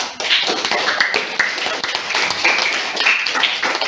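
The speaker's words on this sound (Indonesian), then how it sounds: "Mari kita tepuk tangan untuk hasil post-test kita." Students in a classroom clap, a short burst of brisk, fairly close hand claps with uneven individual slaps standing out over several seconds.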